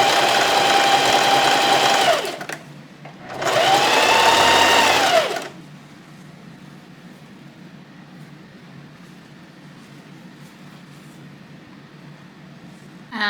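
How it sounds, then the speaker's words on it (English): A sewing machine stitches the inseam of shorts in two loud, steady whirring runs with a short pause between them, then goes quiet. "And then sew down the inseam."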